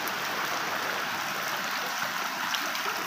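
Floodwater rushing through a flooded village street in a barangay, a steady, loud, continuous broadband roar of flowing water with no pauses, close and dominant throughout.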